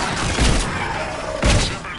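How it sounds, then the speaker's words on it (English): Gunfire in a Mass Effect 3 firefight: two loud, punchy volleys about a second apart over a constant noisy battle wash. "We're in the middle of a firefight right now"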